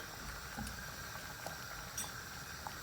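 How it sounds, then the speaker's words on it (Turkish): Soup boiling in a pot, a faint, steady bubbling with small pops scattered through, low and close, no talk. "Çorbamız kaynadı."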